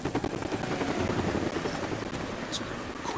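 A helicopter in the video game Deadlight, a close, steady rotor thrum filling the short stretch at a constant level, with no talk.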